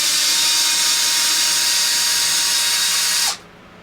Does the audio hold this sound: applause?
no